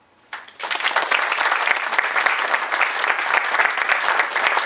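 Sustained applause from the audience at a 4-H public speaking contest at a Kiwanis meeting, starting abruptly after a brief pause and holding steady as a dense, even clatter of many hands.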